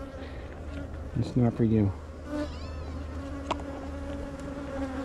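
Honey bees buzz steadily around an open hive, a close swarm of droning wings with louder passes near the camera, while a person speaks briefly over them.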